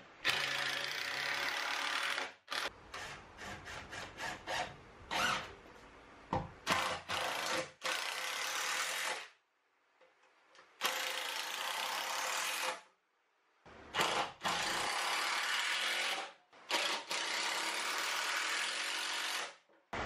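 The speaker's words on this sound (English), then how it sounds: "I'm gonna make sure I put a couple screws in to keep this in place." A power drill or driver runs in repeated bursts of varying length as screws are driven into the wooden legs of a DIY queen-size bed frame, with several short pulses followed by longer sustained runs and brief pauses between them.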